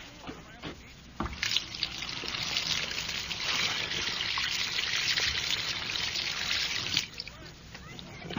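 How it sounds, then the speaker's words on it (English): Water runs steadily from a tap into a free-flowing drain, a continuous splashing hiss that holds for several seconds and then drops off; a single voice is heard briefly near the start. "There's nothing like a nice, free-flowing drain."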